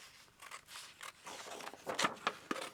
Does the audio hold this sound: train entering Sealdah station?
no